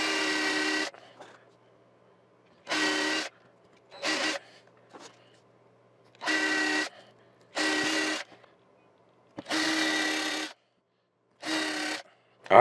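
A drill grinds shallow holes in a hollow-body guitar in repeated short bursts, about seven times, with brief quiet pauses between each run, close and fairly loud.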